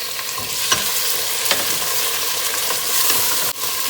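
Onion and chopped tomato fry in a pan with a steady, dense sizzle, close up and fairly loud. A few faint stirring scrapes and clinks come through the sizzle.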